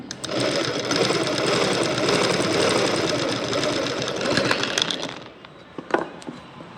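A sewing machine stitches darts on a blouse, whirring loud and close for about five seconds before stopping, followed by a few faint clicks and handling knocks.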